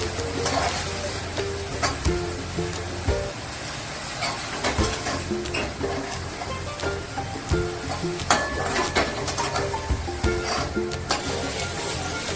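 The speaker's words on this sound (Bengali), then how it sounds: "দিয়ে মশলাটা ভালো করে কষতে হবে।" Hand-ground turmeric spice paste stir-fries in a pan with a soft, continuous sizzle, broken by small scraping and clattering stirs throughout.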